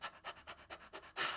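A person imitates a little puppy's panting as a singing warm-up exercise: five quick, evenly spaced breathy huffs, close and soft, ending in one longer, stronger exhale.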